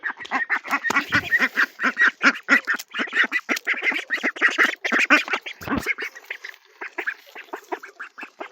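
A flock of ducks on a farm quacks loudly and constantly while being fed leaves, the raspy calls overlapping in a busy, close chorus with brief lulls.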